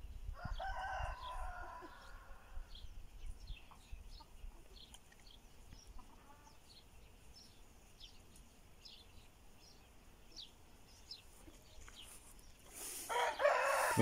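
Free-ranging farmyard chickens are let out for a walk, a rooster crowing in the distance while hens give repeated short calls, with a louder rustling burst near the end.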